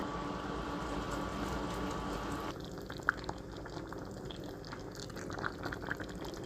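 Pasta water goes into a simmering shrimp pappardelle sauce with spinach, a soft bubbling and liquid trickle close by, with a steady background hum that drops away partway through, leaving quiet sizzling and a few small splashes.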